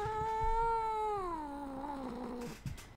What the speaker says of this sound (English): This is my kitty. She doesn't like being held, but she's being held right now